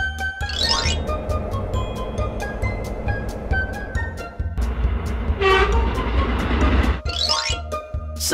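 Subway train sound effect in an animated cartoon: a loud continuous rumble of rolling carriages with a rising horn blast near the start, another mid-way and again at the end.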